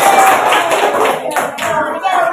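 Classroom applause, dense continuous clapping from a group of students, loud and close, holding steady for a couple of seconds before tapering slightly.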